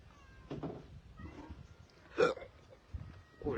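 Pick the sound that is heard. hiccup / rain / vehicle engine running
hiccup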